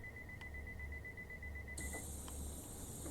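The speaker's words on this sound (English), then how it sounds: "Right, let's get the doors shut." A Class 150 train on a Welsh branch line in Train Sim World 5 sounds its door-closing warning, a steady high electronic beep that switches to a different tone partway through, set over a low engine idle.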